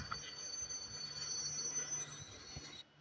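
A train braking as it nears a cave, with a sustained high metallic wheel squeal over a steady rumble of railcars, loud and continuous before cutting off near the end.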